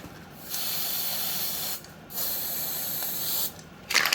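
Three long hissing bursts of a white spray paint aerosol can on a 3D print, each lasting over a second, separated by short pauses, close up.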